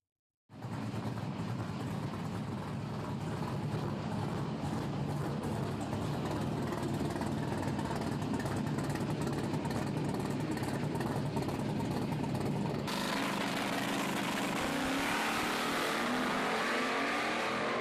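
A racing car engine plays back from a recorded road run, a steady loud roar of sustained revving that shifts tone partway through as the car keeps accelerating, continuous throughout with no talk over it.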